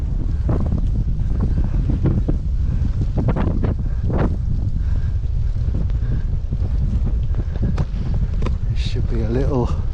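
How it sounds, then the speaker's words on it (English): Strong gusting wind buffets the microphone on a bike ride along an English cycle path, a loud continuous low roar that covers the whole stretch, with a few brief tonal bits of other sound mixed in. "very windy now."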